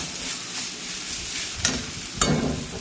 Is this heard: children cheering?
no